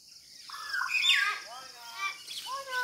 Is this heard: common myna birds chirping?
yes